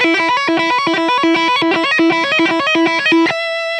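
A distorted 2008 Gibson 50th Anniversary Flying V electric guitar plays a fast repeating riff of bright, gritty notes, ending on one sustained ringing note.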